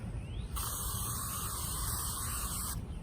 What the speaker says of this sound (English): I spray it on my hands